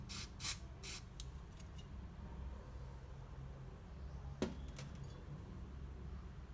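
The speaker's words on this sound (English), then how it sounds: "Just spray a little amount of the cleaner of the parts of the tool" Short, faint hissing bursts of brake cleaner sprayed onto ratchet parts, a few quick spritzes early on and one more later, close but quiet against a low background hum.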